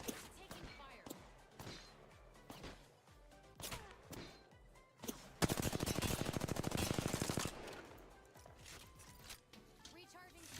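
Automatic weapon fire in Apex Legends: rapid sustained bursts, loudest in a long close volley midway, with scattered single shots and speech around them.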